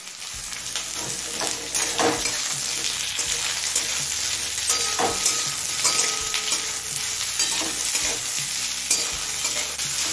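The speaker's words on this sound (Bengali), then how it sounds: "পেঁয়াজটা হালকা লাল করে ভেজে নেব।" Two medium chopped onions sizzle steadily in hot oil with bay leaves and cumin, turning light red, with scraping stirs and clinks of a spatula against the pan throughout.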